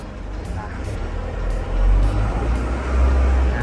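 A Komatsu 510 wheel loader drives in first gear, its diesel engine a deep close rumble that swells as it pulls, with someone talking over it.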